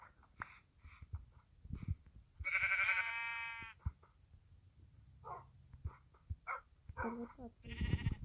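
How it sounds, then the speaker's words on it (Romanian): Blocky Minecraft sheep on a farm let out a loud, wavering bleat mid-clip and another near the end, with soft game clicks and footsteps scattered between them. "Ce de oi avem"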